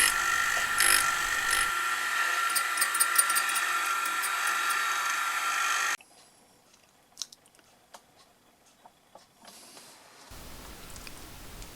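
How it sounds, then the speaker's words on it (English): A small grinder sharpens the teeth of a metal slitting saw in a workshop, a steady high whine for several seconds that cuts off abruptly, followed by quiet clicks and handling noises and a faint hum returning at the end. "I'll just now finish grinding the rest of the teeth."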